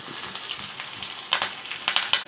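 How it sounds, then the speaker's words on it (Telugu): Steady crackling sizzle of finely chopped green chillies frying in hot oil, with brief louder spatters and pops toward the end, close by. "ఇందులోనే సన్నగా కట్ చేసుకున్నటువంటి పచ్చిమిర్చిని వేసుకుందాం"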